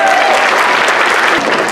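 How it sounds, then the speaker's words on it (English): Loud audience applause in a stadium setting at a marching band exhibition, welcoming a new school principal, a dense continuous roar of clapping with some crowd noise and faint voices mixed in, brief and unbroken. "Y'all give him a round of applause."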